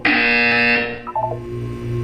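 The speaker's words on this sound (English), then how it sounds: "You will hear a buzzer." A buzzer sounds in the Portal 2 video game, a loud harsh electronic tone held for under a second, then followed by a lower, wavering hum and brief chime-like tones.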